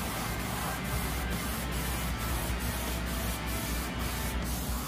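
Airbrush spraying a brown paint mixture while blanket-coating hair around a painted eye, a steady continuous hiss with faint periodic pulses, close and unbroken throughout with no talking.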